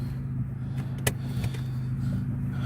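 A VW B5 Passat engine runs smoothly at a steady low hum, heard close and constant, with a brief click partway through.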